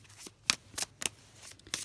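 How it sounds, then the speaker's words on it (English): Charm cards shuffled by hand for a love reading, giving several short crisp riffling bursts spaced irregularly over a quiet background, close and fairly soft. "We'll shuffle it on camera so that you can see"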